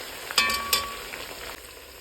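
Onions and carrots fry for Uzbek plov in a soft, steady sizzle, with a couple of quick metallic clinks early on, fairly quiet and close, no voices.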